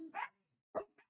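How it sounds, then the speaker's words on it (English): A dog barks twice indoors, two short sharp yelps about half a second apart followed by a small softer yip, fairly close and alone against near silence. "I don't even know what they were barking at."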